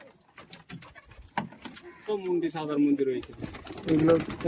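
Pigeons coo in a loft kept for flying birds. Soft rustles and tapping come first, then a couple of throaty, rolling coos sound close by in the second half.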